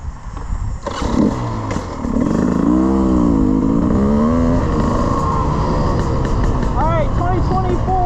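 A 2024 Beta 300 RR Race Edition off-road dirt bike engine runs steadily and loud up close, with a brief rev near the start and a voice talking over the engine throughout.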